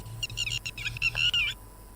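Recorded calls of a baya weaver bird played back, a brief burst of rapid, high chattering chirps lasting about a second and a half, close and clear over a low hum.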